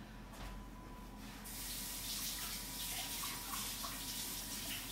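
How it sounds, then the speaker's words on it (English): Tap water runs hard into a kitchen sink as a gadget is rinsed beneath it, a close, loud, steady rushing gush that begins abruptly after a quiet moment and continues with slight splashy changes. "I'm going to rinse this off because that's very important"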